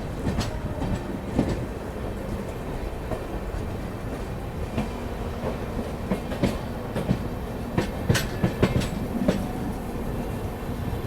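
Mahamana Express pulls into Varanasi Junction with a steady rolling rumble, rhythmic clickety-clack of wheels over rail joints and scattered metallic clanks, moderately loud.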